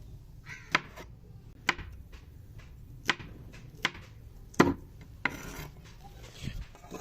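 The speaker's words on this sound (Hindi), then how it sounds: "इसी तरह से सारे भिंडी को हम काट लेते हैं" Okra (bhindi) sliced with a knife on a board, a slow series of sharp single chops spaced about a second apart, close and clear with quiet pauses between cuts.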